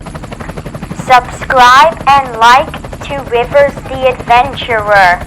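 A person's voice imitates a helicopter, speaking a short phrase in a choppy, pulsing, rotor-like manner, close and loud throughout.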